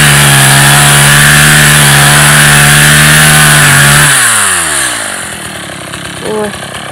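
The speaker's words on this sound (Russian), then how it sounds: "Еще решили чуть-чуть подпилить." A chainsaw cutting a tall tree roars loudly and steadily up close, then its engine winds down and slows toward idle near the end.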